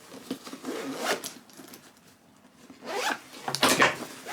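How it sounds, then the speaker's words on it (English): A zipper closes a compartment on a Nomatic travel backpack: several short, raspy zipping strokes close by, with a quiet pause in the middle before a few more quick pulls. "gonna just zip it closed, this part closed."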